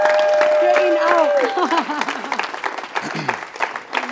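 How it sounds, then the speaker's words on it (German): Audience applause for two quiz contestants at a political youth event, a crowd clapping under a loud talking host, with cheers and sliding vocal sounds over the top. "einfach großartigen Applaus für die beiden."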